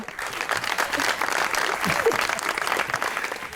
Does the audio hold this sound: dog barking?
no